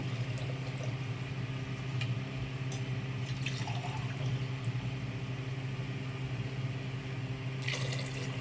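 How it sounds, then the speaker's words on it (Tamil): Water poured into a pot of rice for cooking, a steady faint trickle and splash over a constant background hum, with a few small clinks and no talk. "அதுக்கு வந்து நம்ம மூணு காப்படி அளவுக்கு தண்ணி சேர்த்துக்கலாம்"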